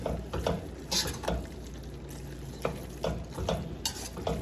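Lasagna meat sauce being stirred as it cooks down in a pan, with a steady sizzle and scraping strokes of the spoon that recur close up, with no voices.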